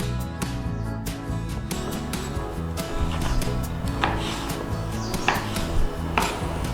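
A knife slices Chinese sausage lengthways on a cutting board, producing a series of close, irregular cutting and tapping sounds with light scraping in between, heard without talking.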